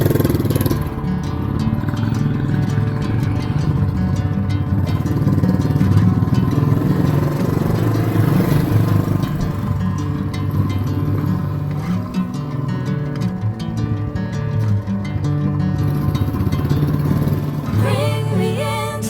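A motorcycle engine drones steadily on a mountain road, loud and close throughout, with a constant hum, small shifts in pitch and slight rises as the rider accelerates.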